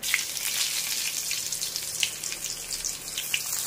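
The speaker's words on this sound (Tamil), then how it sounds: "கடுகு பொடியுது." Mustard seeds spluttering in hot oil in a home kitchen pan, a steady bright sizzle studded with sharp, irregular little pops, close and fairly loud with no talking.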